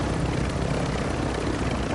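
A helicopter in the Call of Duty video game roars with a dense, steady rotor and engine wash that fills the whole clip at close range, loud and unbroken.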